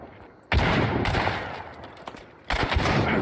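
Heavy shotgun blasts in a video game, two loud booming shots about two seconds apart, each followed by a rough decaying rumble.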